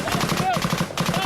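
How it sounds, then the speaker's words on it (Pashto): Rapid, rhythmic bursts of gunfire ring out in an Afghan combat zone as Taliban fighters shoot from several sides, close and loud, with voices mixed in. "اوس د دښمن سره مخ یو چې د 4 خواو څخه ډزې کوي."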